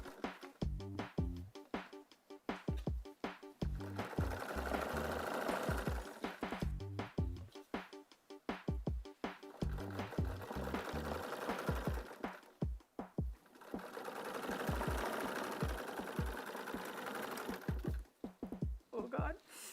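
A sewing machine that may not have been oiled runs in loud, steady bursts mixed with sharp knocks and clatter, under frequent talk.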